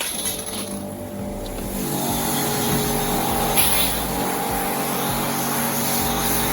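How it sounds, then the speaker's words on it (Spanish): Pressure washer spraying a car, a steady broadband hiss over a low motor drone that grows louder after the first couple of seconds and holds on continuously, close by. "conectamos la hidrolimpiadora y a lavar nuestro coche"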